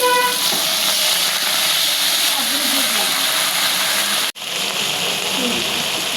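Onion and green chili fry in hot oil in a pan, a loud, steady, close sizzle that breaks off for an instant before the hiss resumes.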